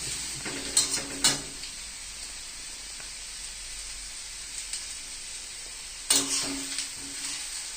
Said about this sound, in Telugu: ఉల్లిపాయలు వేయించి మసాలా తీయాలి.